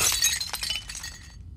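In The Last of Us Part 2, a glass jar smashes: a loud, bright crash of breaking glass followed by scattered tinkling shards that trail off into silence.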